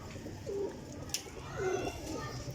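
Pigeons on a rooftop loft give two soft, low coos in a noisy outdoor setting, with a brief sharp click between them and faint background sounds throughout.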